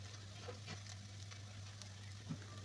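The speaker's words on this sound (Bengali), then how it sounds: "এইভাবে বারবার উল্টে পাল্টে আর একটু ভালোভাবে ভেজে নেব" Potato fritters (aloo bora) fry in oil over a low flame, making a soft, continuous sizzle with faint crackles and a low steady hum beneath.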